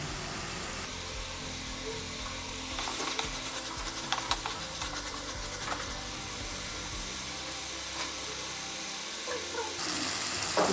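Crushed garlic and ginger drop into a hot frying pan for capsicum egg masala, setting off a sudden burst of sizzling and stirring that carries on as a crackling hiss with light scraping, quiet and close.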